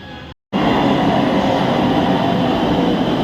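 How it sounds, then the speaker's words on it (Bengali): A metro train arrives at a station, a loud, steady rumble that fills the whole stretch after a brief dropout near the start. "তোর মেট্রো তো এসে গেছে"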